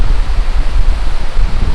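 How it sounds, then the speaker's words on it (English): A river in Bath pours like a small waterfall, giving a steady, loud broadband rush of water up close with no voices. "they have a cool river over here. It's kind of like a waterfall."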